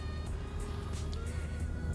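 Renault Megane RS with a double-clutch automatic gearbox driving, a low steady engine drone with a faint rising tone, moderately loud and continuous with no talking.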